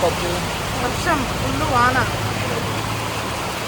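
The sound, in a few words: heavy rain falling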